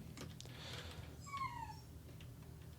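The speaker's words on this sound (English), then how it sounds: "Dogs are making funny noises." Dogs making funny noises nearby: a few short yips and whimpers, then a drawn-out, falling whine, moderately loud over a quiet indoor background.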